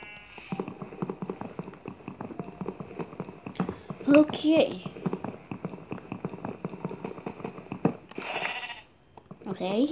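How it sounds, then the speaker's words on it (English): A sheep bleats in bursts amid busy Minecraft Wii U Edition game sounds, with rhythmic footsteps and clattering under a steady musical hum. "Okay, I hear a sheep."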